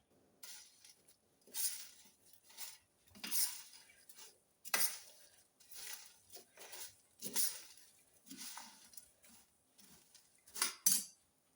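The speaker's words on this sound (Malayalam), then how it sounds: "നമുക്ക് ഈ സ്പൂൺ കൊണ്ടെല്ലാം കൂടെ മിക്സ് ചെയ്യാം." A spoon stirring a hot raw banana snack mixture in a pot: quiet, repeated scraping and clinking strokes in an irregular rhythm, close by, with short pauses between them and no voices.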